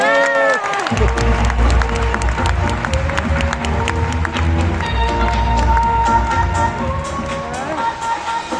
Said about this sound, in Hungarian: Ne is halkuljon a taps, hanem hangosodjon!